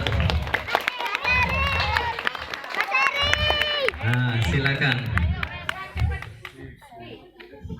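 Schoolchildren clap for a classmate during a Maulid Nabi Muhammad commemoration near Bromo, Probolinggo, in bursts of close, lively clapping mixed with children's voices and an adult speaking.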